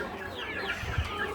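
Country chickens on an organic farm cluck softly and steadily, a low murmur of several birds close by with one slightly louder cluck near the end.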